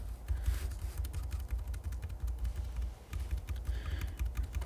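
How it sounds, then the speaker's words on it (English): Quick clicks of typing on a small keyboard while sculpting a 3D character, a steady run of light taps close to the mic over a low background hum, with no talking. "Put my little keyboard to work."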